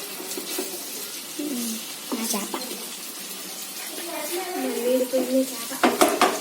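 Fish fillets frying in a pan and turned over, with gentle wet sizzling, scraping and clinks from the spatula in short bursts, a bit louder near the end, with no talk.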